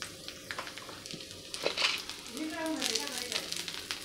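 Coconut, garlic, ginger and whole spices roasting in a little oil in a kadai for misal masala, a soft steady sizzle and crackle with occasional stirring scrapes, close and moderately quiet throughout.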